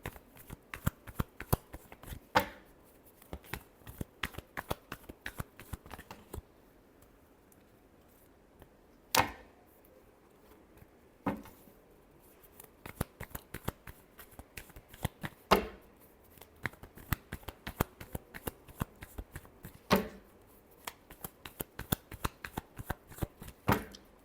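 Tarot cards being shuffled by hand close up, a dense run of crisp riffling flicks broken by a few short pauses and sharper slaps, with no talk.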